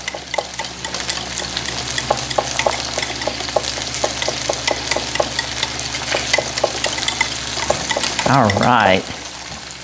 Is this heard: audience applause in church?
no